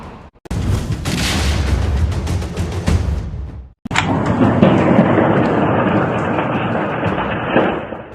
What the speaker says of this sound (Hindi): धमाके की आवाज से गूंज उठा शहर।